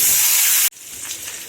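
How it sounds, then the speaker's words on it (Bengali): Potato and taro pieces, already salted and turmeric-coated, fry in hot oil in a pan, giving a loud, bright sizzling hiss that cuts off abruptly, then a quieter, softer crackle. "এর মধ্যে আমি এবার আলু আর কচুগুলো ভালো করে লাল লাল করে ভেজে নেব"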